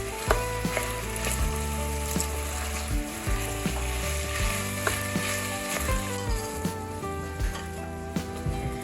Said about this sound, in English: it says to brown the meat on all sides